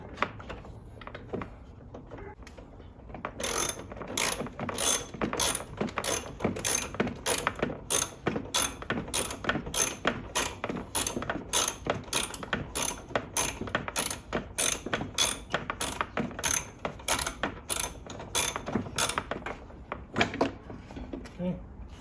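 A ratchet wrench clicks rapidly and steadily while backing a bolt out of the engine bay of a 2016 Nissan Rogue during a washer fluid reservoir replacement, close and crisp over faint background noise.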